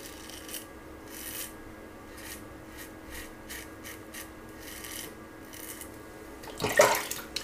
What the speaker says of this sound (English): pass number 3, against the grain